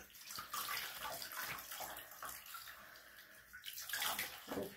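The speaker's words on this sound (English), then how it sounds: "I'm going to put the water on it and rub it at the same time." Running water rinses shampoo off a puppy in a bath, a continuous close splashing and pouring rush with uneven surges as the coat is rubbed.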